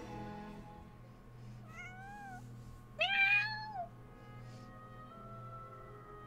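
Two meows from a video-game cat sound over steady game music, a short mid-length call followed by a louder, longer one, with no talking.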